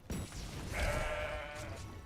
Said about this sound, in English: Oh, just a flock of sheep, nothing to see here, guys.